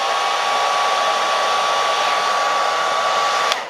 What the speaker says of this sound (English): I'm going to just hit it with the hair dryer and just heat set this just in case.